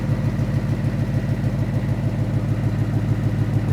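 A Ford F100 truck with a swapped-in Coyote engine idles with major exhaust leaks, giving a steady, loud, close rumble with a rapid ticking puff throughout and no talk.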